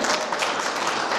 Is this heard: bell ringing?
no